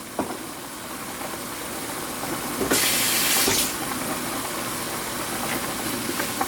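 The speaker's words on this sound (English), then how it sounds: "I'm going to add a little bit of milk to this, Brazil nut milk, about 1/4 cup" Brazil nut milk, about a quarter cup, poured into a pan of creamy vegan sauce, giving a brief hissing sizzle that swells for about a second over a steady background of kitchen noise, with no talking.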